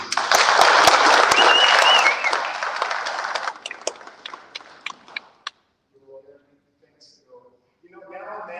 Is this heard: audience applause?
yes